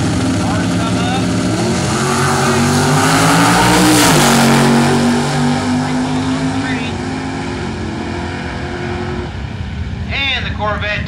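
Loud roaring drag racing car engines rev and accelerate continuously, with crowd noise and an announcer's voice speaking over the din.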